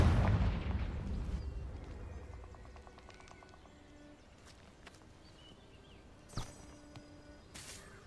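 A Confringo fire-blast spell going off in the Forbidden Forest in Hogwarts Legacy, a deep booming explosion that roars loudly at first and then fades into a crackling rumble, with a later sharp pop.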